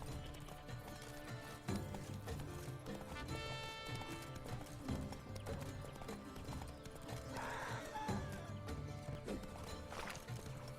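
Roach, Geralt's horse in The Witcher 3, gallops steadily with rhythmic hoofbeats over game music, and a neigh rises about midway through.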